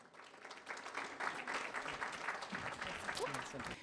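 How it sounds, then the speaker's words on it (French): An audience at a French-speaking event applauds Catherine Guindon of the organizing committee, the clapping swelling from quiet to a full, sustained patter, with a few voices mixed in. "Alors applaudissez à tout rompre Catherine Guindon du comité organisateur."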